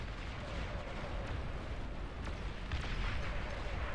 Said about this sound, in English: losing all my fighters to that explosion